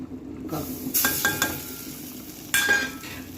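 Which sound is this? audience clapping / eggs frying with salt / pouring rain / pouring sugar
eggs frying with salt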